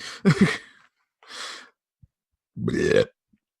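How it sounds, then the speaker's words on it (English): A cheesy macaroni burp rises loud and close, followed by a softer exhaled burst and then a second long, croaking belch, with quiet gaps between. "cheesy macaroni burp."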